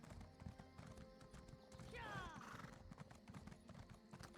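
A mount horse in The Elder Scrolls Online clip-clops along and gives a rising whinny midway, the hoofbeats rapid and steady under a voice talking.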